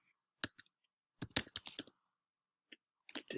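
Keys tapped on a computer keyboard while entering a search term, a few isolated clicks followed by a quick burst of keystrokes, then a lone tap and a short final flurry, close and fairly quiet.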